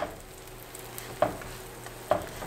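Keto pizza frying in a pan after being flipped, a faint steady sizzle with two soft clicks or scrapes, no voices.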